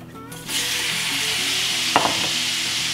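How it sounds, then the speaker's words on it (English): Shrimp dropped into melted butter in a skillet burst into a loud, steady sizzle after a quiet start, with a couple of brief clinks of stirring partway through, close up and without talk. "Once the butter is melted, we're adding all of our shrimp to the skillet."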